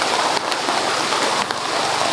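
Heavy rain pours steadily onto surfaces in a broad, unbroken wash of noise, loud and close throughout with no gaps.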